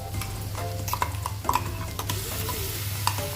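Ground spice paste stir-fried with potatoes and onions in a hot pan: continuous close sizzling under repeated scraping and clacking strokes of a spatula against the metal, with a low steady hum underneath.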